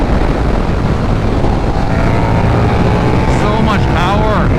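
A 2024 KTM 1390 Super Duke R Evo motorcycle engine roars loud and continuous, rising in pitch toward the rev limiter near the end, with heavy wind rush and a voice speaking over it.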